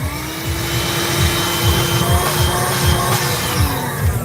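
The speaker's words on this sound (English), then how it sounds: "Martin Arthur, that's like a small vacuum cleaner." A small handheld car vacuum cleaner runs with a steady whining motor hum and a rapid pulsing flutter underneath, close and continuous for a few seconds, no one talking.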